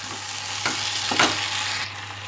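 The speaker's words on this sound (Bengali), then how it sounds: "মশলার সাথে মিশিয়ে নিয়েছি সবজিগুলো" Vegetables being stirred into spice masala in a sizzling pan, with a few scraping strokes of a spoon against the bottom over a steady frying hiss.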